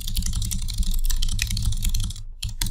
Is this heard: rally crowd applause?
no